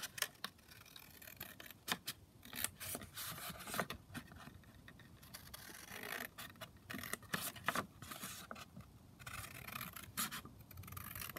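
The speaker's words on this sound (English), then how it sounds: "so I'm just going to cut this big one down" Scissors slicing down a large sheet of coffee-dyed paper for a junk journal: repeated crisp snips and papery scraping strokes in an uneven rhythm, close and fairly quiet, with no voices.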